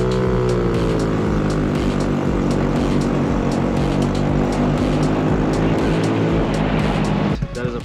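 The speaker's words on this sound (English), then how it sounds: "Time to do the 0 to 30 test on Billy's bike." Honda Navi scooter-style motorcycle, fitted with an upgraded carburetor, accelerating hard through a 0 to 30 run: a loud, steady engine drone with rising harmonics that climbs for several seconds, then cuts off abruptly near the end.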